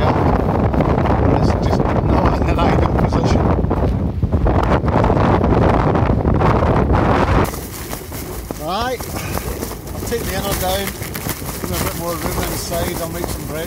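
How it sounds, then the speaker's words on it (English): Strong wind gusts batter a lightweight one-person tent at a wild camp, a loud roaring buffet that eases halfway through, leaving flapping fabric and someone talking over it. "The wind has tacked round and it's blowing a hooly."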